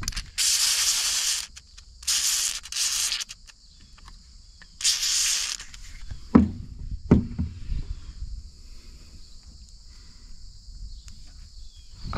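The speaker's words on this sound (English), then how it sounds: "we're gonna give the locking mechanism a little spray down as well" WD-40 Specialist Gel Lube sprayed on a locking mechanism in a barn: several hissing aerosol bursts of about a second each, close, then a few metallic clicks and quiet handling noise.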